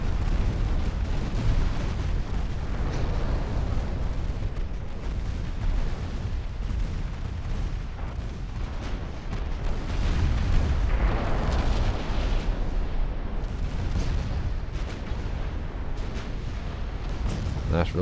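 Dense rumbling booms and crackling blasts roll continuously as a warship explodes during a naval battle in the video game Ultimate Admiral Dreadnoughts, loud and sustained with intermittent sharper bursts.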